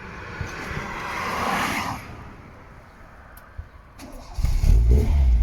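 A car engine cranks and catches after an LPG valve repair, starting with a rough mechanical whir and then settling into a loud, close running idle with a rise in revs at the end.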